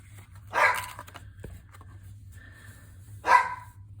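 A pet dog barking indoors in a craft room, two separate short barks a few seconds apart over a quiet, low hum.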